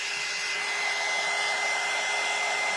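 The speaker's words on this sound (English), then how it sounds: "I'm just gonna hit it with the dryer." Hair dryer blowing steadily on a chocolate bunny tin craft piece, a loud, continuous close-up whoosh of air that holds without a break from start to finish.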